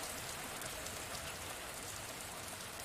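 Steady rain falls softly on a river, a continuous hiss of drops pattering on water and surfaces, fairly quiet and uninterrupted.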